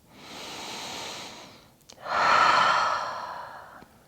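Deep, slow breathing while resting at the end of a yoga session: a soft, long inhale followed by a fuller, breathy exhale, close and quiet, with no speech.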